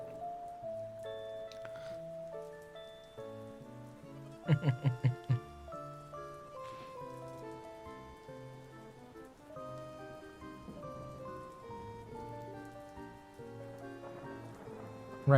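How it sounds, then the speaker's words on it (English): Rain ambience from the rainy day music of the Animal Crossing video game, steady soft patter alongside gentle melodic tones, with a brief cluster of bright plucked notes partway through. "Right now we're listening to Rainy Day Animal Crossing."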